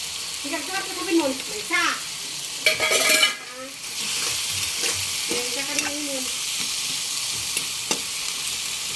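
Milkfish going into a hot pan with red and green chili, a soft steady sizzle with a louder splash and stirring noises, while people speak now and then in the background.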